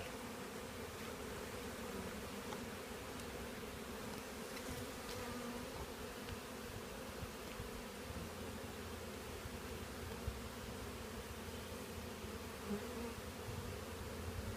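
Bees buzz steadily around a hive box, a dense continuous drone close by with no talking.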